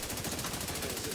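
Rapid automatic gunfire from a raid in the shooter game The Division 2, a short dense burst of rattling shots heard alone at a moderate distance.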